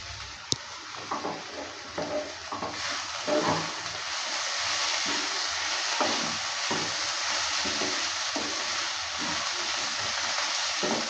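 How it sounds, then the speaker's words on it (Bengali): Pea leaves with peanuts and potato stir-frying in a pan, a continuous close sizzle with repeated scraping and tossing strokes throughout. "এভাবে করে কিছুক্ষণ সময় নিয়ে ভালো করে নেড়ে চেড়ে নিয়ে ভেজে নেব"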